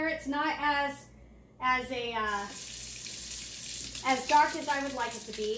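Water runs steadily from an upstairs sink faucet, a continuous hiss heard under a person talking, filling the pause between their phrases.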